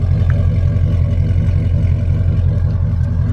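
Chevrolet Trailblazer SS fitted with catback exhaust and headers, idling loud and close in a steady, deep, lumpy burble that throbs evenly throughout.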